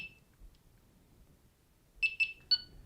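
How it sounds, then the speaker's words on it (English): A Delkim fishing bite alarm in pairing mode gives a quick pair of bright electronic beeps followed by a single longer beep, sharp and close against a faint low background hum. "So you hold it down, it's beep, and then 2 beeps, and now it's pipping at me"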